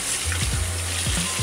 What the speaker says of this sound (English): you want to take it out of the package and you want to rinse the turkey off